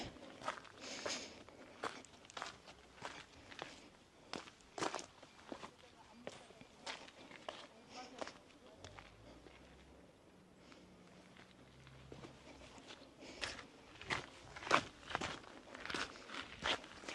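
Footsteps crunch over rocks on a spring hiking trail up toward the Kuwohi tower, steady irregular steps close by with some quieter stretches, occasional bursts of talk in between.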